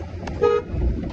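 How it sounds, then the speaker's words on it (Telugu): A single car horn toots briefly mid-clip, fairly close, against steady engine and road rumble while driving on a narrow, rough road. "హార్న్ కూడా కొట్టండి"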